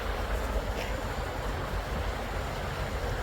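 Water moving along a river, heard on an early morning walk: a steady, close wash of broadband rushing noise mixed with wind buffeting the microphone, with no voices.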